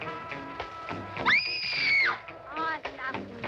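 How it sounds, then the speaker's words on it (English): A person lets out one shrill, sustained scream mid-clip, rising sharply and holding for under a second, with talking before and after it. "I scream."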